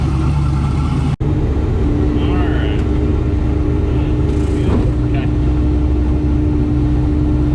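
A turbocharged LS-swapped Foxbody car idles loudly and steadily throughout, with a sharp click near the start and people speaking briefly over the engine drone.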